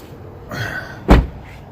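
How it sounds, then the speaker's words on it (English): The door of a GMC Sierra crew cab pickup truck swings and shuts with a single loud, close slam, preceded by a faint creak of the door moving, with no talking. "Let me close this door here."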